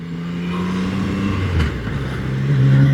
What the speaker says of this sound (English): See how horrible this sounds under the bridge. Need a new exhaust.